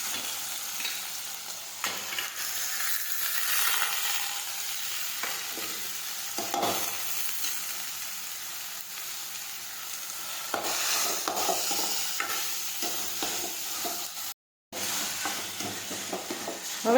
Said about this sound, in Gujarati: હવે આપણે મેથી બાફી છે તે નાખી દઈશું. હવે આપણે સાતળી દઈશું.